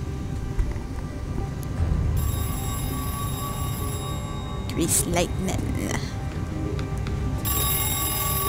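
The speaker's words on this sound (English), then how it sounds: "Oh no, don't pick up the phone, dude. Don't do it." A red telephone rings in the video game MISSING, its bell repeating steadily at moderate loudness while a person talks over it.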